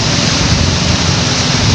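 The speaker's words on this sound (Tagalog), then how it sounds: "Lakas pati ng alon." Strong waves at sea during an ultralight fishing trip, a loud, continuous roaring wash of water that fills the whole stretch without pause and with no voices.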